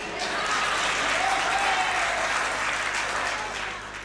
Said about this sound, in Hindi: इस बात पे ताली निर्मल सक्सेना जी की वाइफ ने बजाई है।